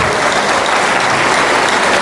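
Loud, dense applause from a church congregation during a sermon, continuous clapping filling the room at an even level for two seconds with no voices above it.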